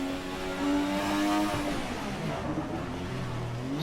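A drift car engine revs in a low gear, a loud droning roar that climbs and then falls away, sounding alone with no voices.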